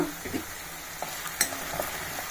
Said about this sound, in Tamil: பூண்டு பல்லெல்லாம் சேர்த்துருவோம் அதோட எண்ணெயில் வதங்கட்டும் நல்லா